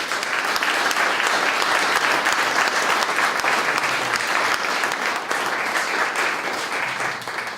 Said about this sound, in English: Please give them a great applause.